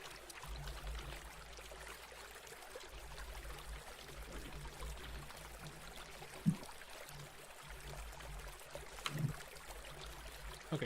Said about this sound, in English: This water sound is making me tired